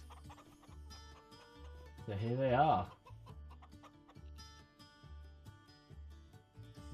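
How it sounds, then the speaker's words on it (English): Hens clucking in a farming video game, with repeated soft background clucks and one louder drawn-out cluck in the middle, under a quiet voice and light game music. "let's go meet our lovely hens."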